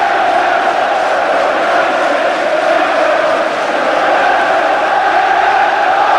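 Huge FA Cup final football crowd roaring and cheering in a stadium, a dense, steady, loud wall of voices throughout.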